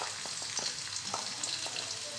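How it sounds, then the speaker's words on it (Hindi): Onions fry in hot oil in a wok, a dense steady sizzle with a few soft knocks and stirring sounds, close, continuous and without talk. "कढ़ाई में मैंने आयल डाला हुआ है और इसके अंदर डाल दूंगी मैं प्याज"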